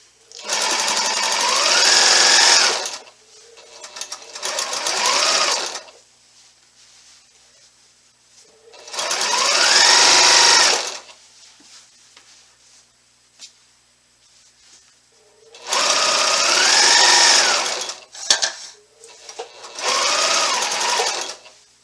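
A sewing machine stitches binding onto a quilt in several long bursts of rapid, buzzing motor whir. Brief pauses separate the runs, and the machine sounds close and loud with no voices.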